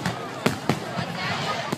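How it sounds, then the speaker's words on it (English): Fireworks at an Independence Day display in a Simi Valley, California park, with three sharp bursts cracking over a loud, steady crowd roar. "A fireworks display in California has gone horribly wrong after rockets flew into a crowd"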